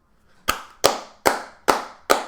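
Five sharp hand claps in a steady, evenly spaced rhythm, close and fairly loud, with nothing else around them.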